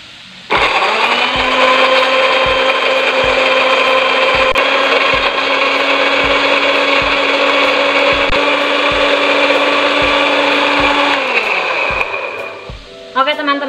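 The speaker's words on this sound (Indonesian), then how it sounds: "Lalu blender bumbu sampai halus." A blender grinds shallots, garlic, tomato, bird's eye chili and a little water into a spice paste, a loud steady motor whine holding for about eleven seconds before winding down, with faint knocking under it.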